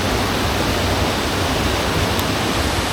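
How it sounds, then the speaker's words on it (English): Hindhope Linn waterfall in Northumberland pours heavily, a loud, steady, close roar of falling water filling the whole stretch with no voices. "this waterfall is absolutely stunning, but it is giving off a lot of mist because of the amount of water coming down"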